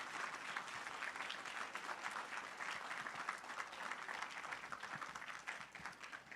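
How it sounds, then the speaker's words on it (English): Steady, dense audience applause at a youth VEX IQ robotics competition event, a continuous wash of many hands clapping throughout. "give them all a round of applause and show of appreciation"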